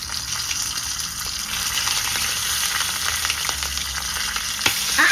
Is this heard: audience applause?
no